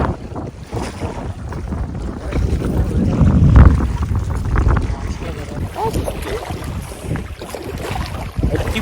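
A boat crossing water toward a forest island at Veettikunnu, with a steady engine and wind rumble throughout and water wash swelling around the middle, no talk heard.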